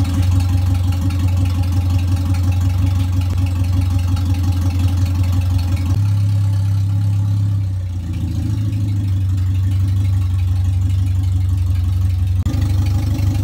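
An Owner Type Jeep warming up idles close by with a steady, low, rumbling drone for over thirteen seconds, the engine tone dipping slightly once partway through.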